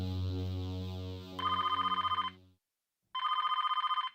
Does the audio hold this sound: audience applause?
no